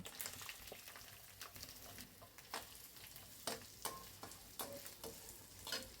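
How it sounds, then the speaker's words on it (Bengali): Onion frying in oil with bay leaves, cinnamon, cardamom and cloves for a spiced beef curry, a soft continuous sizzle broken by repeated scraping stirs in the pan. "আমার পেঁয়াজটা 2 মিনিট আমি ভাজা করে নিয়েছি, পেঁয়াজটা ভাজা ভাজা হয়ে গেছে"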